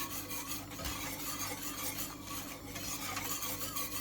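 A spoon stirs milk and cornstarch pudding in a pot with a steady scraping, rubbing rhythm that continues throughout, close and fairly loud, with no voices.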